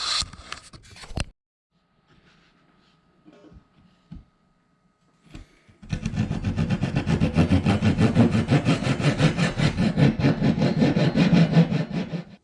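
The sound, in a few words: pull saw cutting notches in wooden rocket fins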